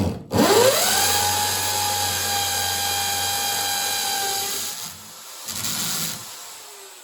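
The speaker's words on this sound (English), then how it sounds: "it can get very hot drilling into the tiles" A power drill bores through ceramic bathroom wall tile into the wood behind while fitting a bath shower screen, a steady high whine that starts abruptly, holds for several seconds, then slows and stops, close and loud with no talk.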